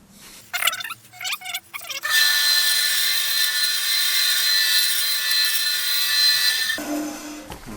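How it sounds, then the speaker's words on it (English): A bandsaw cuts through wood for a honey dipper. A few short knocks come first, then a loud, steady, high whining cut runs for about five seconds before it stops near the end. "I'm just going to use the bandsaw now to join that line to the outside"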